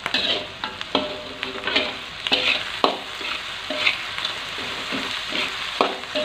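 Shallots, garlic and chili stir-fried in hot oil as the base for jengkol fried rice, with a steady sizzle broken by repeated scraping, clattering strokes of a spatula in a pan, close and clear with no talk.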